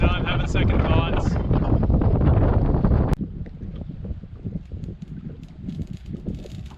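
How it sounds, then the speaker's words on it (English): Strong headwind gusting over a canoe on a wilderness lake, roaring loudly into the microphone for about three seconds, then easing to a lower buffeting rumble with light rustling. "I have to fight through a wicked headwind to get to it. This wind is really sucky right now."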